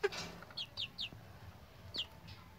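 A rooster of gamecock-like build gives a few short, high clucking calls in quick succession, then one more after a pause, fairly close over a quiet background.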